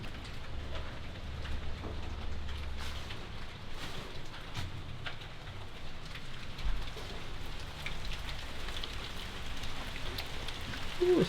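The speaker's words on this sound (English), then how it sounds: "Oh, it's raining hard." Steady heavy rain pours down and patters on surfaces for the whole stretch, a dense continuous wash of drops with no voices.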